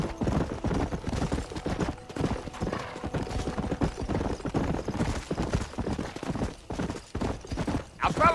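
Horse hooves clip-clop steadily and loudly while riding in the video game Red Dead Redemption, a continuous rhythmic trot filling the clip with no talk.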